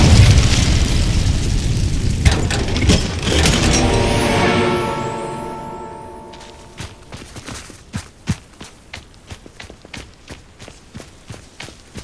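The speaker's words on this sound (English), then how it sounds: "Incendio!" A fiery Incendio spell bursts loudly in Hogwarts Legacy, a roaring whoosh that swells for several seconds and slowly fades, followed by a run of quick soft footsteps and light thuds.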